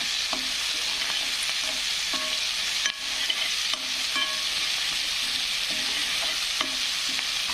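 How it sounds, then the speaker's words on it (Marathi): Onion and tomato frying in a pan for a capsicum (shimla mirch) bhaji, giving a steady close sizzle broken by repeated rhythmic scrapes of a stirring spoon. "छान कांदा पण फ्राय होत आहे आणि टमाटर पण फ्राय होत आहे"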